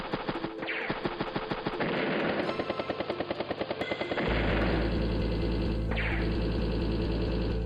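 Advance Wars: Days of Ruin tank attack, loud rapid machine-gun bursts and rattling fire over a heavy thrumming engine drone, shifting into a steady low rumble with a few more volleys, all synthesized game audio.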